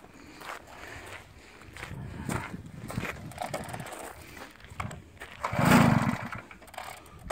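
A Piaggio Ciao moped engine sputters through start attempts in short, uneven bursts, then catches with a louder, buzzy two-stroke rasp near the end.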